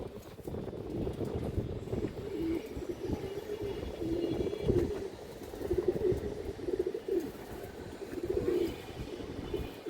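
Pigeons of an old working breed coo repeatedly at a pigeon farm, soft low calls rising and falling in a continuous chorus nearby, with faint wind and little talk.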